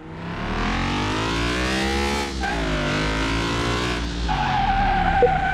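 A car brakes hard on a test drive after an engine repair, tyres skidding in a long loud squeal over a droning engine that dips and surges, close and continuous.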